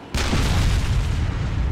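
A tank cannon in Arma 2 fires once with a sudden loud boom that rolls on as a heavy rumbling decay.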